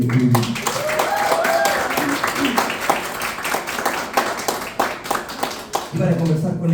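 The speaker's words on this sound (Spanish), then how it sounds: "Un gran aplauso para don Eric Bello Urbina." An audience applauding an author at a book event, with close rapid claps running under a speaking voice and fading out near the end as talk resumes.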